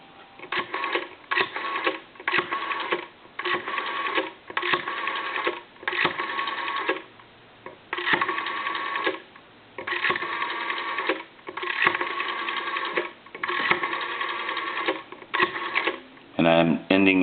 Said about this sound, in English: And I'm going to go ahead and dial some numbers.